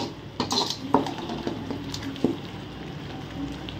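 Masala with ginger garlic paste being stirred and sautéed in a pan for a country chicken curry: a spoon scrapes and clinks against metal in irregular strokes, with a soft sizzle underneath, close and moderately loud.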